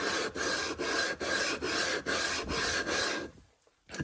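Sharpening stone rubbed flat on an iron lapping plate, a steady coarse rasping scrape in rapid back-and-forth strokes with brief dips between passes, close and loud, stopping near the end.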